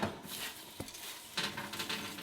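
Fried onions tossed in a hot pan while making green bean casserole, some of them burned: a brief sizzle with scraping and clatter of the pan, a sharp knock near the middle, then louder rustling tosses toward the end, no talk.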